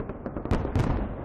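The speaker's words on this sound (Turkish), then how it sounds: "Her yıl Kızıl Meydan'da gerçekleştirilen askeri geçit töreninin ardından Moskova'da havai fişek gösterisi yapıldı." Victory Day fireworks display over Moscow after the military parade, a loud, dense run of booming bursts and pops rolling one into another with no pause.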